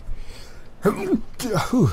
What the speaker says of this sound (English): you gotta love the sneezes